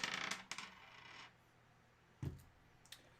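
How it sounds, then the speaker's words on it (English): Dice are rolled during a football trading card box break, with a short clattering rattle at the start followed by a few faint, sharp clicks as they settle. "let's roll the dice for one of these two boxes here"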